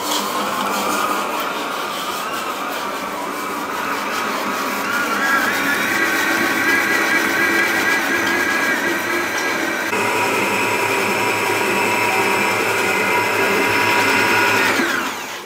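A stand mixer beats butter, running as a loud, continuous motor whir with a rising whine that shifts up in pitch partway through when it switches to a faster speed.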